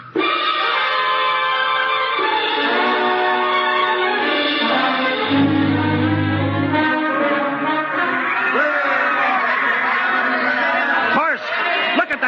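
A crowd celebrates around a ship in a 1955 old-time radio drama, a continuous wash of chatter and voices mixed with a low horn-like blast midway, all quite loud.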